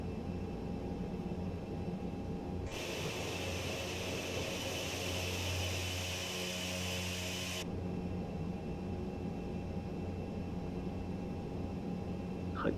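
An ATR 72-600 turboprop taxiing in Microsoft Flight Simulator: a steady engine drone and airy roar throughout, surging much louder for several seconds as thrust is added, then dropping back to the quieter idle hum.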